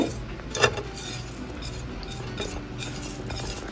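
A spoon stirs spices into yogurt in a bowl, with soft scraping and light clinks against the bowl, one sharper knock near the start, and no talk.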